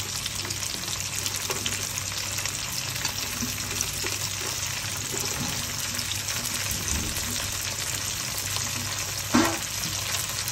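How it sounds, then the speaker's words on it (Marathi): Large cubes of onion and capsicum are sautéed in a pan for mushroom chilli dry, giving a steady, soft sizzle with faint scraping stirs and one brief clatter near the end. "आणि आपण हे छान परतून घेऊया"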